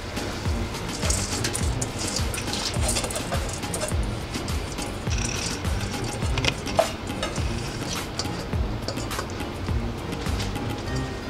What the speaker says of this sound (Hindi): मैं इसमें चावल डाल रही हूँ.